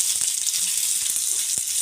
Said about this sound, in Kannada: ಇದನ್ನು ಹಾಕ್ಬಿಟ್ಟು ಫ್ರೈ ಮಾಡೋಣ